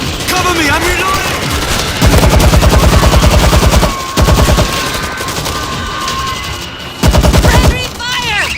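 Sustained automatic gunfire in the video game World War Z Aftermath, Tokyo chapter, loud continuous bursts of rapid shots with short breaks, amid game voices and battle noise.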